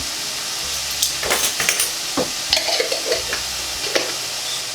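Lentil bolognese ingredients with basil and oregano stirred in a frying pan, a steady sizzle broken by repeated scraping strokes of a utensil against the pan, close and clear.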